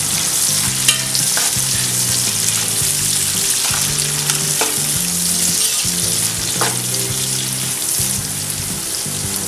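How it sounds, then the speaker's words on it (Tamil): Chopped onions sautéing in oil with fried whole spices for chicken biryani make a loud, dense, continuous sizzle close by, with occasional stirring knocks and a steady low tonal hum beneath. "எல்லா மசாலா பொருளும் எண்ணெயில பொரிஞ்சதுக்கு அப்புறம் கட் பண்ணி வச்சிருக்கிற ஆனியன் ஆட் பண்றோம்."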